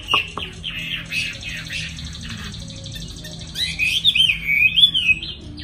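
Small birds packed in a box before shipping chirp and twitter continuously, growing louder and busier toward the end, close by with faint background rumble.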